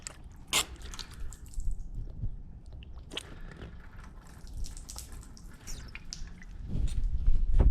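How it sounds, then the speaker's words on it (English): Water running and dripping off the ceramic-coated body of a car, with scattered drips and splashes over a low, steady watery background, close and fairly quiet. "See how the water's just running off of it?"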